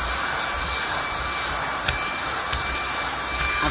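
Household vacuum cleaner running continuously while hoovering under couch cushions, a loud steady whir with a high whine, interrupted by a few brief clicks and knocks as the nozzle meets the sofa.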